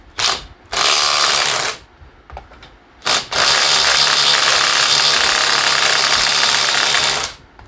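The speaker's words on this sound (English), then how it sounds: "All 6 lug nuts loose with the Milwaukee." A Milwaukee 2553 impact wrench loosens lug nuts in loud, close bursts of rapid hammering rattle. A short burst comes first, then a brief one, then a long sustained run, with quiet gaps between them.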